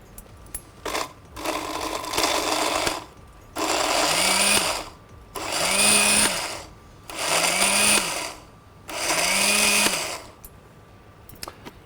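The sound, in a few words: kitchen grinder grinding spices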